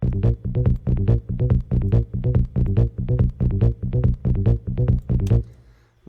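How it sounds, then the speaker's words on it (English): Techno sub bass line played in isolation in Ableton: a loud, punchy, repeating pattern of short deep pulses in a steady rhythm, about two per second, cutting off and fading just before the end. "The sub bass line sounds like this in isolation."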